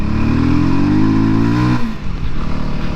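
A Voge 300 Rally, a small-bore adventure motorcycle, rides close and loud on a country road, its engine note steady then dropping and shifting as it rolls onto gravel.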